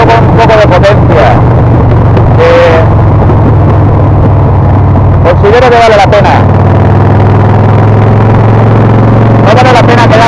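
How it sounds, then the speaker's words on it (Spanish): A powerful motorcycle engine drones loudly while riding on the road, with heavy wind buffeting the microphone and a rider talking over it in bursts. "Eso es lo bueno de tener una moto con un poco de potencia."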